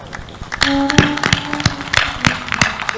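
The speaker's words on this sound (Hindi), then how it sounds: "तालियां भी जोर बजाओ।" An audience claps at a religious discourse, with scattered sharp claps building into an uneven burst of applause, close and fairly loud.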